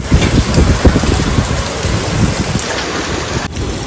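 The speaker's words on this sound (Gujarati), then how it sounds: "જુઓ વરસાદ ચાલુ થઈ ગયો" Heavy rain pouring down outdoors, a loud, dense, continuous patter and roar of drops striking surfaces, with no voices.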